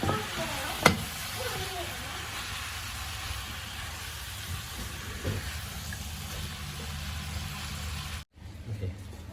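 Pork liver, intestine, skin and heart stir-fried in a pan for northern Thai larb: a steady soft sizzle under occasional scraping of the utensil, with one sharp clank early on, close and continuous until it abruptly cuts out near the end.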